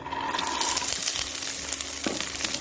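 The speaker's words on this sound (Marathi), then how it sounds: "आता भिजवलेले शेंगदाणे आपल्याला परतून घ्यायचे" Soaked, towel-dried peanuts sautéed in a hot pan on a gas stove while making a green chilli panchamrut, giving a steady loud sizzle and hiss throughout with a brief clatter near the end.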